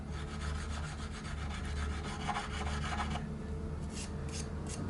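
A wire brush rasps steadily against abrasive grit to clear away gummed-up paint, a continuous close scrubbing texture that lightens and thins toward the end.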